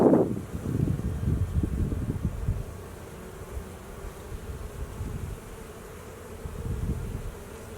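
Honey bees around an open hive in a Colorado apiary in spring, a close low buzzing hum with swells as bees pass the microphone, steady throughout amid light wind.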